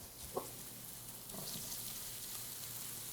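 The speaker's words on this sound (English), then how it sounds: "we're going to get them sauteing up in a little bit of olive oil" Zucchini, carrots and mushrooms sauteing in a little olive oil in an oven-safe skillet for a veggie frittata: a faint, steady sizzle with a couple of soft clinks near the start, no talk.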